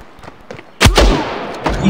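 A single loud gunshot in the mobile shooter Standoff 2 cracks sharply near the start of the second half, followed by a decaying echo and faint clicks.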